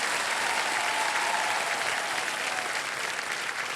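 A studio audience claps steadily and loudly on a television quiz show set, a dense, even wash of applause that holds without a break for several seconds.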